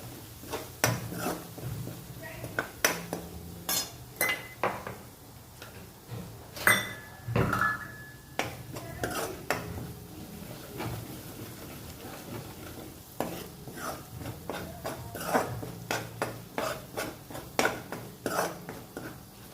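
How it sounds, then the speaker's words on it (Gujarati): Ground sesame seeds roasting on low heat in a pan over chili paste, stirred with a utensil: a soft sizzle beneath repeated scraping and clinking strokes against the metal, close and fairly quiet. "એ તલને થોડી વાર માટે ધીમા તાપ પર થવા દઈશું, શેકાવા દઈશું."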